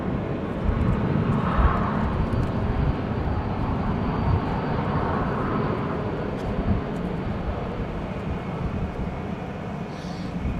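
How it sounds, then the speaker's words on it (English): A passenger airplane departs from runway 18 Left at Amsterdam Schiphol in wet, windy weather, its engines making a steady, loud broadband roar that holds evenly throughout with no talk. "this is probably going to be the last departure from runway 18 left before it is all landings again"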